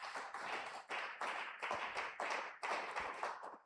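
A church congregation claps in a quick, steady rhythm, with many hands close together producing bright, crisp bursts in groups. The clapping is moderately quiet, with no talking over it.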